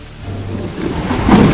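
A low rumble of thunder rolls in over steady rain, swelling louder toward the end of a brief moment.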